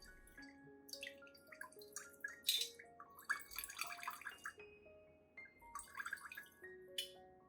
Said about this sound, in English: Strain it thoroughly to completely remove any remaining crumbs, making the solution cleaner